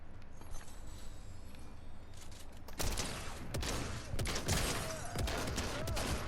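Rapid bursts of gunfire from a Fortnite match crackle loudly in the second half, following a quieter stretch of game ambience and mechanical noise.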